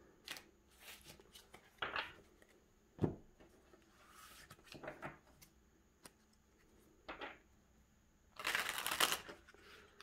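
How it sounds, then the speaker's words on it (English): Several short bursts of riffling and shuffling tarot cards, separated by pauses and soft handling clicks, close and fairly quiet. "I'm just going to shuffle some of these"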